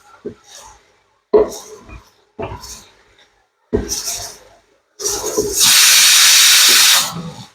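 Several short bursts of sound give way to a loud, sustained hiss of steam escaping a pressure cooker of cooking mutton, lasting about two seconds, then fading out.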